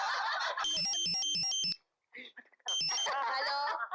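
A phone rings with a repeating electronic melody in bursts, close and clear. A short pause breaks it before the ringing starts again, and brief chuckles and murmuring voices come in between.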